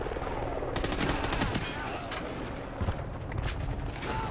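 Dense bursts of automatic gunfire and rattling shots from the Call of Duty: Ghosts campaign battle, loud and continuous over a rumbling combat backdrop, with a few sharper impacts near the end.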